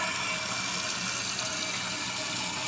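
A toilet refills after flushing, fitted with a newly replaced flapper, giving a steady close rush of running water that holds evenly throughout.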